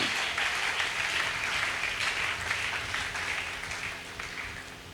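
A church congregation applauds steadily, a dense, sustained wash of clapping at even volume throughout, easing slightly toward the end.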